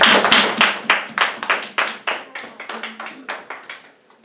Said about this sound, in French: Acclamons très fort pour la parole de Dieu.